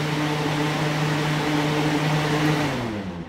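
An EGO 18-inch FN1800 misting fan runs on its turbo setting with a loud, steady airy roar and motor hum, which starts to wind down and soften near the end.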